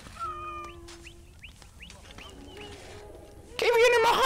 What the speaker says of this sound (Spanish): Ven aquí, gatito.